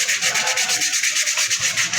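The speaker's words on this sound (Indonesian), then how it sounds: "Lalu kita akan mengamplas bagian kampas rem" Rhythmic scratchy sanding of a Toyota Calya car's brake pad, quick back-and-forth strokes repeating steadily up close, with no voices.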